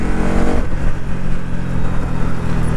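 A Bajaj Pulsar NS200 motorcycle engine and exhaust rumble loudly and close, with a steady throbbing idle and a brief rise in revs near the start.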